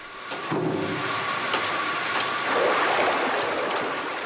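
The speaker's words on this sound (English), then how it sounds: "They loosen the gold with a high-pressure water jet." A high-pressure water jet blasts steadily at a gold mine in Africa, loosening gold from the mud with a loud continuous rushing hiss and spray that swells slightly partway through.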